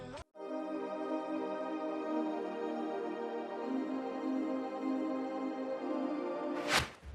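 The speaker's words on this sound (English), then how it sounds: "Next, add a bell." A bright bell patch layered into an EDM future bass track, ringing with steady sustained harmonic tones over the music for several seconds before a short sweep at the end, no voices.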